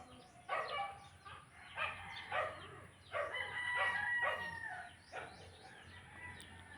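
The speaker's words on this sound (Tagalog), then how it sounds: "ang ingay mag voice over kasi nga ang daming manok" Several chickens cluck and crow in repeated loud bursts close by, with short gaps between calls and a dog barking among them.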